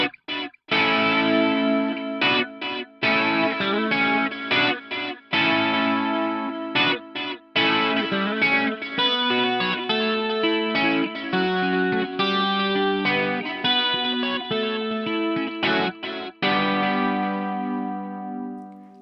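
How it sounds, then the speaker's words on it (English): A clean electric guitar played through a dimension chorus and a 400 ms stereo delay rings out in shimmering chords and single notes. Short pauses break the phrases, and the echoes trail off. No talking. "if you take this delay sound and combine it with the dimension chorus, it's just glorious"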